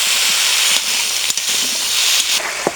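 Potatoes and flat beans fry in a pan with turmeric and salt, giving a loud, continuous hiss with a few sharp pops and clatters of stirring.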